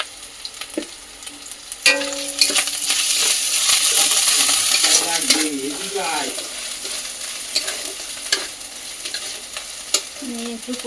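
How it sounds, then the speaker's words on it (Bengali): Spice paste sautéing for a taro-flower (kochur mochi) dish during a prawn paturi cooking session: a steady loud sizzle fills the pan, punctuated by scraping stirs and occasional sharp clinks of a spatula, with no talking. "মশলাটা হালকা কষিয়ে নিয়ে তারপর কচুর মুচিটা দিয়ে দেবো গরম"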